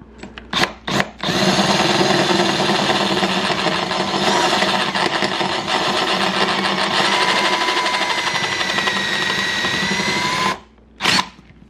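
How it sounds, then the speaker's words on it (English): A power drill with a cobalt bit whines steadily and loudly for about ten seconds drilling out rivets on a 2014 GSXR 750 exhaust canister, preceded by a few short bursts and ending with one brief final burst. "Let's go ahead and see if we can drill these rivets out."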